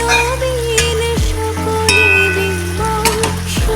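Fish curry with black cumin paste frying and being stirred in a pan gives a steady, close sizzle with occasional scraping stirs, while steady tonal sounds continue in the background.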